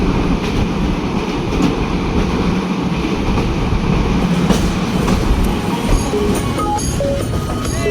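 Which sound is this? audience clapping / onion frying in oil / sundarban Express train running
sundarban Express train running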